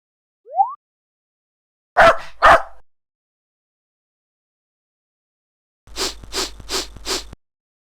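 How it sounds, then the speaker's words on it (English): A dog barks in a cartoon desktop skit: after a short squeak come two quick barks, a pause, then a tight burst of four rapid barks, all clear and close with silence between. "Bark, bark, bark. Bark, bark, bark."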